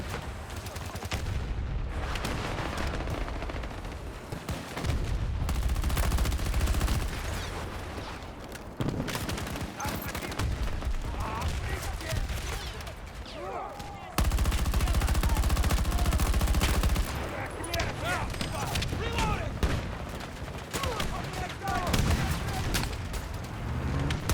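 Sustained video-game gunfire during a shooter firefight, with dense bursts of shots and explosive booms filling the scene almost continuously, loud and close.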